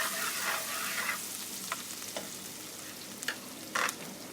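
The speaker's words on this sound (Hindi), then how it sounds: "प्याज की बुनाई करनी है थोड़ा सा लाइटली ब्राउन" Chopped onion fries in a pan for chickpea cholay, a steady soft sizzle broken by a few scraping stirs of a spoon near the end.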